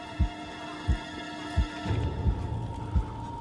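Heartbeat sound effect from the horror game Medusa's Labyrinth: slow, evenly spaced low thumps, about six beats, over a steady droning hum with a murky ambient wash rising partway through.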